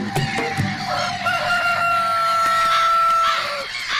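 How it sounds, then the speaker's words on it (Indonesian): A cartoon chicken crows and clucks in a garden scene, with a sustained tonal crow rising over sharp clucks and busy cartoon sound effects, loud and close. "Dan sang ayam, ya, dia hanya menjaga taman."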